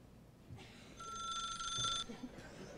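A telephone rings on stage during a high school theatre production of Hairspray, two clear electronic trills in quick succession, heard from a distance in a quiet room.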